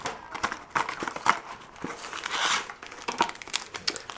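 Lego VIDIYO Series 1 minifigure blind bags being opened: close crinkling and tearing of thin plastic packaging in quick irregular bursts.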